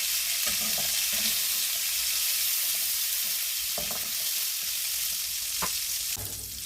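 Cabbage fritters frying in hot oil, a dense, continuous close sizzle with occasional stirring scrapes and clicks, no voices over it.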